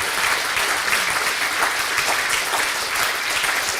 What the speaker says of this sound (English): If I may ask for one extra round of applause for Professor Steven Pinker.